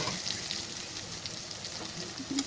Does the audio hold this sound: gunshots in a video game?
no